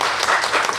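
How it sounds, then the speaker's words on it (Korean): A church congregation at a Sunday worship service claps steadily to welcome a newly registered member, a dense, even wash of applause heard alone. "우리 박수로 환영합니다."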